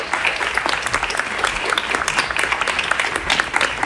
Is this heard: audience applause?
yes